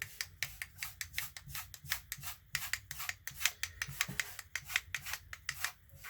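Quick, rhythmic scratching strokes on a box, close and dry, repeating steadily with no voices.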